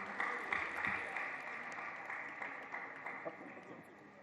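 Audience applause at an official launch event for a vice-chancellor, moderate clapping with scattered sharper claps that fades gradually, under a continuous background of voices.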